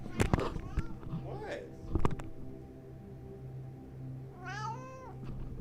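A cat meows at a late-night indoor stream, a short rising meow near the end after a few clicks and thumps, fairly quiet over a steady low hum.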